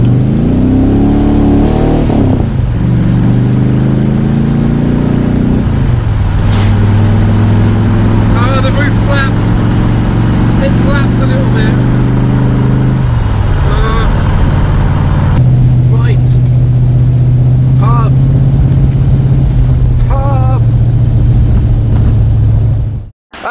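Chevy V8 engine in a Cobra roadster revving and running, a loud steady low rumble with several rev changes, continuous close-up throughout.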